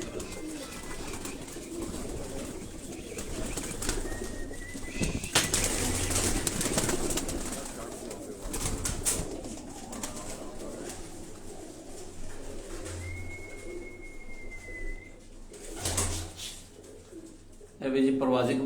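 Pigeons coo softly in low, repeated bursts amid a noisy night setting, with a voice talking over parts of it.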